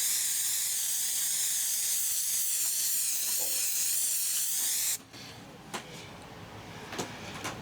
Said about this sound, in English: we'll have a good shake and then we'll start spraying